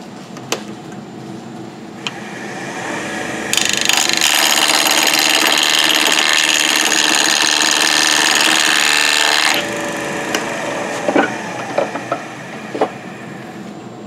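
A segmented wooden bowl spins on a lathe while a tool cuts into it. A loud, steady, rough grinding runs for about six seconds, with quieter workshop knocks and clicks before and after.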